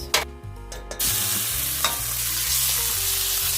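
Whole garlic cloves and tomato paste fry in a pan with a steady sizzle, after a few sharp stirring clatters at the start, close and with no talking.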